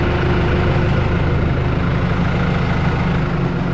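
A New Holland WM120 tractor engine idles close by, a loud, steady low-pitched diesel drone with an even throb and no change throughout.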